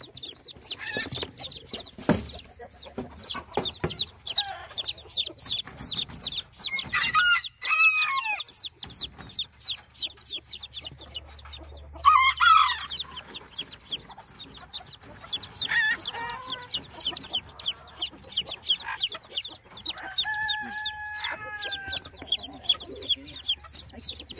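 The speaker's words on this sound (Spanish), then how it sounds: "Creo que son 8 pollos." Chickens cluck and chirp steadily nearby, with high peeping chicks and a few louder hen calls mixed through a busy barnyard scene.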